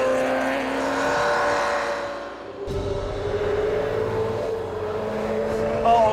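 A Ferrari sports car accelerates hard, its engine note droning loud from inside the cabin, pitch climbing and then shifting after a gear change partway through, with no voices heard.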